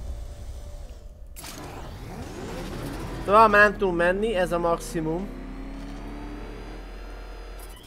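The Batmobile revs its engine and spins its tyres in the video game Batman: Arkham Knight, a rising, surging roar in the middle of the clip, while someone speaks Hungarian over it.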